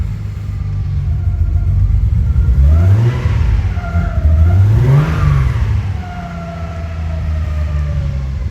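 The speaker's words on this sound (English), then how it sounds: "rev it once or twice just to see if I can get it to stall out" 1994 Nissan Skyline engine on a cold start, a loud steady idle rumble with two sharp revs that rise and fall, close to the car, no voices.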